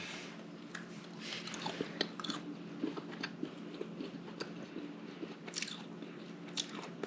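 Crisp bites and close sticky chewing of cooled maple candied bacon, a steady run of small crunches and squishes, quiet and near, with no talking.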